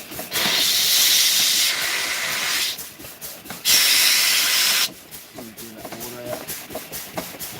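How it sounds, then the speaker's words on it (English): A steam locomotive vents steam at night in loud, sustained hissing bursts that start and stop abruptly, with a brief pause between them, while people talk nearby between and under the blasts. "The steam."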